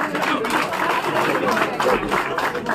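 Crowd applause for Haji Sahab at a BJP press conference, continuous clapping mixed with overlapping voices and chatter close by.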